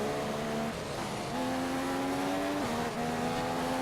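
An F1 car in the F1 2015 video game accelerates at the British Grand Prix, with a loud, steady engine whine rising in pitch through gear changes and a brief dip between shifts.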